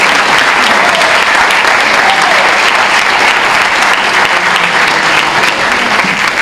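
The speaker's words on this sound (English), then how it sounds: "I'll put another round of applause for all these people." An audience gives a loud, sustained round of applause for award recipients at an indoor gathering, a thick unbroken wash of many hands clapping from start to finish.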